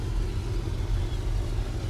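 Engines of a four-engine propeller aircraft run up together to 1500 RPM during ground checks, making a steady, heavy low rumble that holds constant and close throughout with no voices over it.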